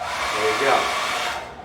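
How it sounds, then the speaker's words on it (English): A hair dryer powered through a 3000W pure sine wave power inverter runs with a steady, loud whooshing roar throughout, and a voice speaks briefly over it. "you're going to see the hair dryer come on."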